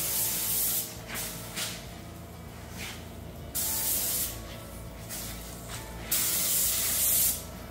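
Spray can applying a silver nose stripe to a 1968 Triumph TR250, close hissing bursts of varying length separated by short pauses, no talking.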